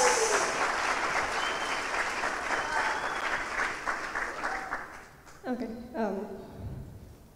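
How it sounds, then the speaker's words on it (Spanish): Live audience applause for a young performer at a Mother's Day song performance, a dense steady clapping that fades out midway as a voice begins talking over the dying claps. "Un aplauso"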